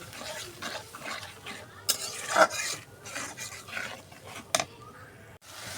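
Ground cumin, coriander and chili powder sauté in oil in a pan, giving an irregular sizzle with scraping stir strokes and a few louder bursts, without speech.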